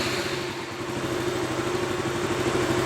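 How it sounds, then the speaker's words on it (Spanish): A KTM Duke motorcycle engine runs at a steady idle of about 1500 RPM, a close, even low throb with a faint mechanical clatter, no voices present. "Vamos a encender nuestro motor."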